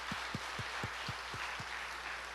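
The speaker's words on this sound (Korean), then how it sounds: "감사함으로 박수의 영광을" Church congregation claps together during an Easter Sunday service, a series of about seven evenly spaced hand claps, fairly faint against a steady background hiss.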